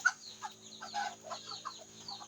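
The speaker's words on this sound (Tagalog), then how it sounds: "Ito naman mga manok na ito, gusto yatang makaatay. Ingay." Chickens cluck noisily and continuously, with overlapping clucks and squawks at close range under a steady background hum.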